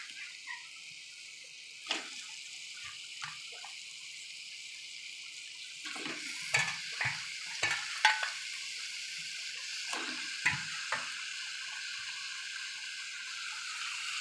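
Chicken pieces for a desi chicken curry dropped one by one into cooked spice paste in a pan, giving a faint steady sizzle with a few louder crackling bursts and clinks partway through.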